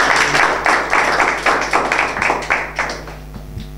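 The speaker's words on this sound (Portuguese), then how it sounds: "Aplausos, pessoal, aplausos." A stage audience at a BMS rap battle claps loudly in a steady, fast rhythm to welcome a performer, each burst of hands evenly spaced over a faint low musical hum.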